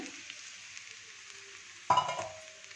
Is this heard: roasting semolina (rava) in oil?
yes